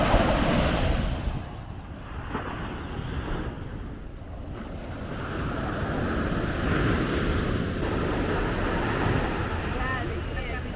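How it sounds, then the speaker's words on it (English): Ocean surf rolls in at Kuta Beach in Bali, a broad roar of breaking waves that swells and eases, mixed with gusty wind buffeting the microphone throughout. "Some people are just watching the waves"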